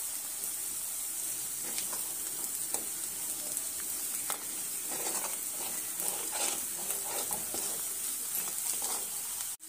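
Ginger and garlic fry in a pan with a loud, continuous close sizzle and hiss, with intermittent crackling bursts and light stirring, and no voices.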